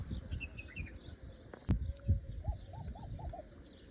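Birds calling near a lake picnic spot at Al Qudra in Dubai, a short run of soft repeated coos and chirps, fairly faint over outdoor background noise.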